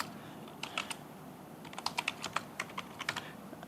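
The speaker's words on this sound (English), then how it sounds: "If I just type my name there," Someone types a name on a computer keyboard, producing a short, irregular run of light clicking keystrokes over a steady room hiss.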